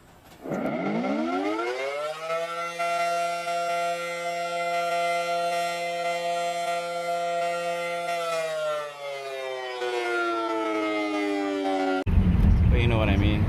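A voice imitates a civil defense siren, a long sustained wail that rises, holds steady, then falls away, loud and close.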